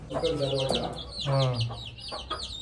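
Chickens cluck repeatedly on a Konkan homestead during Ganpati Visarjan festivities, the bursts close and fairly loud, with brief chirpy notes and some background voices.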